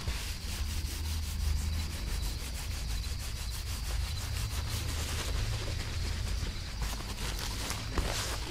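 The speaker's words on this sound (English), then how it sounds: "Now, just listen to how soft this fabric is." Soft white fabric napkins are rubbed close to the microphone in an ASMR setting, a steady, dense brushing rustle that runs continuously with no talking.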